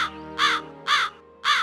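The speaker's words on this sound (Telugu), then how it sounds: "కాలు కాకి ఇదంతా వేరే చెట్టు మీద కూర్చుని చూసి నవ్వుతూ ఉంటుంది." A crow caws three times in a steady rhythm in an animated story, each call harsh, loud and close, standing clear over a quiet background.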